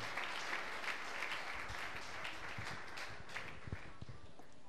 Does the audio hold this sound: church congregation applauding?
yes